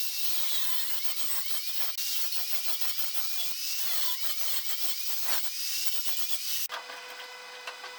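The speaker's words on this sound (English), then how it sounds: "Now I'm going to come in with a diamond wheel on my grinder and just gently remove some of that material down in there." Angle grinder fitted with a diamond wheel grinding gently into an aluminum tube held in soft vise jaws, a steady high whine with rough, uneven scraping bursts that drops away near the end.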